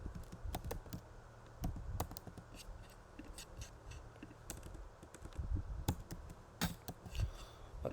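Quiet typing on a computer keyboard during a game-programming tutorial, with irregular bursts of sharp key clicks and taps spread through the clip, faint and close with no talking.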